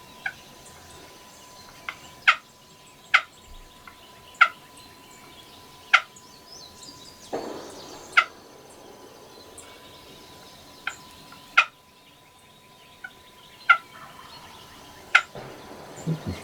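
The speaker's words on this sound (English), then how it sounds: "If it's the same gobbler I've been hearing, he's come out the ridge and he's coming closer" Wild turkey gobbler gobbling from the woods along a ridge, a run of sharp, fairly distant gobbles recurring every second or two against quiet outdoor background, with no one talking.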